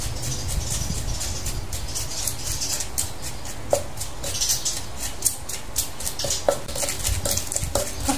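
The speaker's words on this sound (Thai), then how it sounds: "เขาตำพริกละเอียดแล้วนะจ้า" Chilies are pounded in a mortar with toasted rice flour for a Thai bamboo-shoot soup, a steady rhythm of close pestle thuds and sharp clacks against a constant background rumble.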